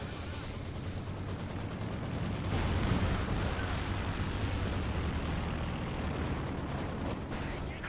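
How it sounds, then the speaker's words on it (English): Dense, rumbling battlefield din from a Company of Heroes 2 match as a bombing run begins, with continuous booming explosions and gunfire swelling midway and staying loud throughout. "Should have the first run of bombs"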